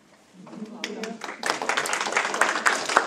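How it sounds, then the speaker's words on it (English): A small audience applauds at the end of a housing financial workshop, scattered claps building and continuing for a few seconds after brief talking. "Hey, I got applause."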